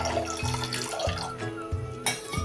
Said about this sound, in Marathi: त्यात आता गरजेप्रमाणे पाणी घालून घेऊया